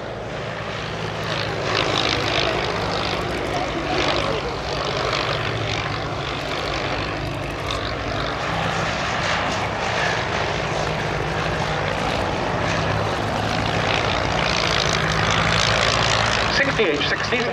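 A de Havilland Queen Bee propeller biplane, a wooden-framed radio-controlled target aircraft built on DH-60 fuselage frames, drones steadily overhead at an airshow. The engine is loud and continuous throughout, with a crowd or commentary voice mixed faintly beneath it.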